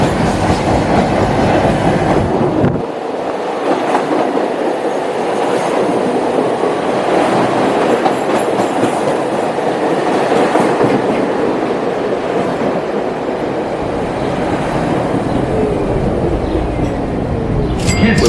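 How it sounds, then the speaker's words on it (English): A Chicago elevated train runs along its tracks, with loud, steady rumbling and rhythmic clickety-clack from the wheels, a sharp jolt near the start and occasional faint squeals, heard from inside the car with no talking. "the next train's due in like 2 minutes"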